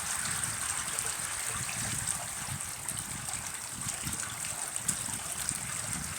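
Water running steadily from a hose into a pool being filled, a continuous close hiss and trickle with faint splashing underneath.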